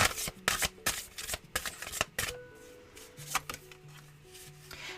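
Tarot cards being shuffled by hand, a close, soft run of rapid riffling and flicking for a few seconds, then quieter sliding and settling of the deck.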